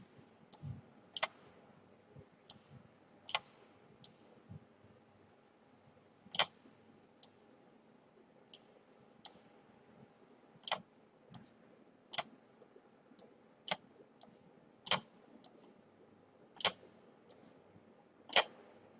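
Computer mouse clicks during drag and drop, sharp single clicks spaced irregularly about a second apart, close and distinct against a quiet room hum.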